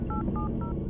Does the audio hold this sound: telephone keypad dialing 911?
yes